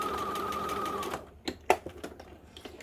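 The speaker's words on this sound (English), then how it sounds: "to sew up the side seam. I'm just going to go back to straight stitching" A sewing machine straight-stitching a side seam on T-shirt fabric runs in a steady whirring burst for about a second, then stops, followed by a few close clicks and handling knocks.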